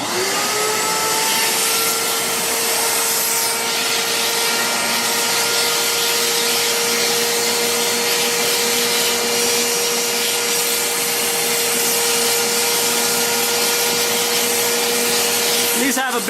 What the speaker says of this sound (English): Now what we're going to do is vacuum off the heat exchanger tubes.